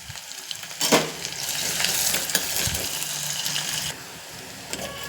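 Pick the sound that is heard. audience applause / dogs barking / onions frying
onions frying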